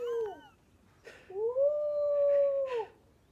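A dog lets out a long, rising howl-like super bark, preceded by a couple of short yips, sounding close and loud with no talking.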